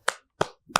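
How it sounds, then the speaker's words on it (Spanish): Three separate sharp hand claps ring out at an even, unhurried pace, close and distinct with silence between them rather than a crowd's continuous applause. "Aplausos."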